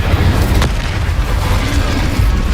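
Incendio fire spell cast in the video game Hogwarts Legacy: a loud, continuous low rumbling roar of flame with a sharp burst near the start and booming swells throughout, no talking.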